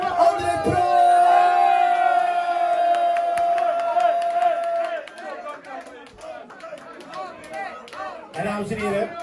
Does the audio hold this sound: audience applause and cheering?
yes